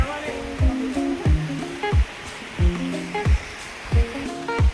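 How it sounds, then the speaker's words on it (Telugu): A waterfall at the Loddi Mallayya temple roars steadily and close by. A repeating rhythmic tonal pattern runs over the water noise throughout. "ఇగో వాటర్ ఫాల్స్ ఇట్లా వాడి అట్లా పోతుంది"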